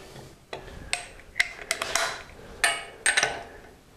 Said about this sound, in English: let me check that with an inch-pound torque wrench now